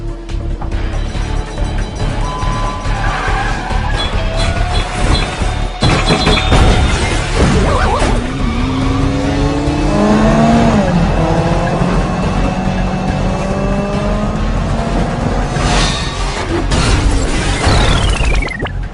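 A car chase rages with loud engines roaring, tires squealing in long skids, and a crash amid steady motor noise, with no talking over the continuous action.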